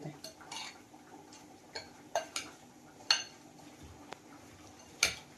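Spoon stirring cooled oil through chunks of raw mango pickle with fenugreek seeds in a metal vessel, a few sparse, close clinks and scrapes at irregular intervals over a quiet background.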